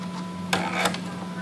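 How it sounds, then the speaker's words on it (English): A Husqvarna Designer 1 sewing machine works its automatic thread cutter: a quick pair of sharp mechanical clicks and whirs over a faint steady motor hum. "you can cut your thread. So I'm all done, I'm going to cut."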